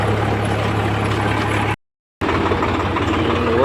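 A Swaraj 744 tractor engine runs steadily with a rotavator attached, a loud continuous close-up drone with broadband rumble, broken by a short silent gap before resuming at the same level.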